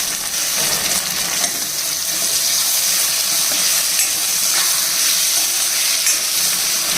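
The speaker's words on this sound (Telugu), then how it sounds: "ఇలా వేగిన తర్వాత టమాటా ముక్కలు కూడా వేసేసుకోవాలండి" Onion and tomato pieces fry in an oiled pan, giving a continuous loud sizzle with faint stirring scrapes underneath and no voices.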